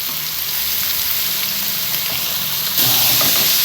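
Vegetables sautéing with onion for gobi fried rice make a loud, dense, hissing sizzle that runs steadily and swells a little louder near the end, with no talking.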